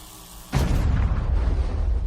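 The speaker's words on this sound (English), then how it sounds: "The explosion was enormous and instantaneous, and Roberto actually died instantly" A sudden loud explosion from a high-voltage metal electrical box, a sharp boom at onset followed by a sustained roaring rumble that stays loud to the end.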